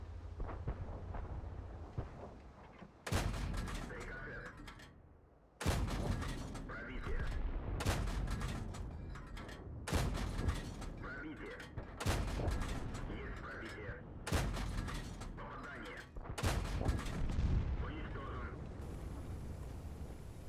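A T-34 tank's main gun fires in an online tank video game, a series of loud booming shots spaced about two seconds apart, each followed by a decaying rumble, with game sounds between shots.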